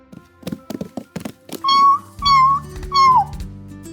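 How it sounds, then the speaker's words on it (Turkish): A kitten gives three drawn-out, high meows in a row, each following a few soft knocks and taps nearby. "Bu bir kedi yavrusu."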